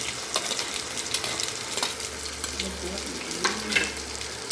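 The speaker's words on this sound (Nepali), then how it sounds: "अब एकछिन प्याजलाई भुट्ने" Onion and fenugreek seeds fry in hot oil for a Nepali-style taro root curry, giving a steady, close sizzle with occasional stirring scrapes and no talk.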